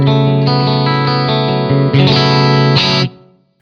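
A clean electric guitar through rack effects plays sustained chords with a glossy, effected shimmer and a touch of room reverb, loud and close, ending with a ringing chord that fades out.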